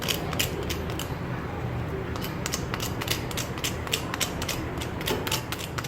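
Crisp crackling and crunching snaps of crispy potato fritters being bitten repeat irregularly over a dense, rustling background, close and fairly quiet, with no talking.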